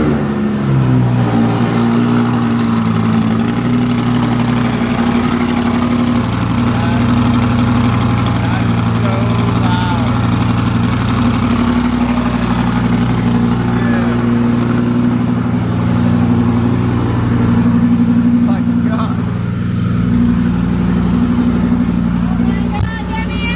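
Naturally aspirated V10 supercar with an aftermarket exhaust running after a cold start, a loud, steady, throaty idle with rev swells close by, continuous throughout with no talking.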